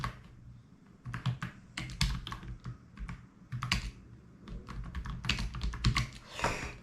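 An email address being typed on a computer keyboard: quick, irregular clicks of keys close by, with short pauses between bursts of keystrokes and no talking.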